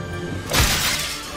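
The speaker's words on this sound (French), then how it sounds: "Explosion de la fenêtre." A window shatters in the Medal of Honor Allied Assault video game, a single loud glass crash with a brief low thump, ringing out over a steady game background.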